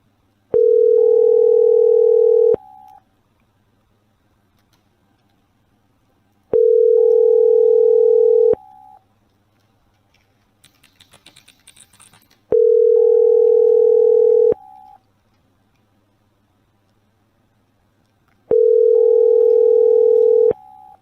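A telephone line rings out unanswered, four long ringback tones repeating steadily every six seconds, loud and clean, with a brief faint rustle between rings.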